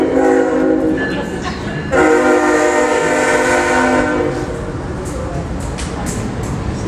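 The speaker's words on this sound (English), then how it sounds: "we'll let the train go through" A train rumbles past nearby, its horn sounding in long tonal blasts before the noise eases into a lingering roll.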